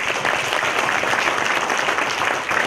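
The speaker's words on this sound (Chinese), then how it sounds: "大家掌声鼓励好吗？" An audience applauds at the grand final of a national secondary-school Chinese-language debate competition in Kuala Lumpur, sustained dense clapping from a large crowd filling the hall, steady and loud with no speech.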